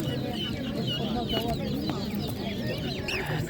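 Guinea fowl and other poultry at a crowded animal market, with steady clucking and bird calls over a constant murmur of people talking nearby.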